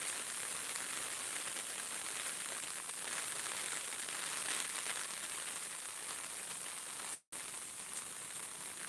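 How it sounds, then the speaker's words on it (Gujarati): Rain falls on a village in Amreli district, Gujarat, as an even, hissing wash with a brief dropout near the end. "અમરેલી જિલ્લામાં વરસાદ સારો એવો વરસી રહ્યો છે"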